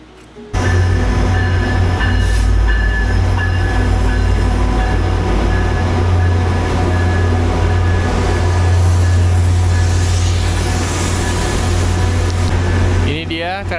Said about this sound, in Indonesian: Ini dia keretanya Tri Rail. Let's go, kita naik 2 tingkat keretanya guys.